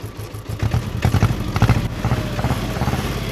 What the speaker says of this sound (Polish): ciągnik mamy rozgrzany.